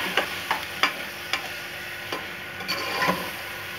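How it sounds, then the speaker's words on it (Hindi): Grated carrots fry in ghee for gajar ka halwa under a soft sizzle, with a series of sharp spoon scrapes and taps against the pan at an uneven rhythm, close and alone. "घी में डाल के आपने इसको अच्छी तरह से भूनना है।"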